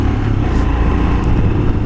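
A Royal Enfield Himalayan BS4 motorcycle with about 1,000 km on it pulls hard, its engine roaring steadily up close through a continuous, rumbling acceleration with no voices.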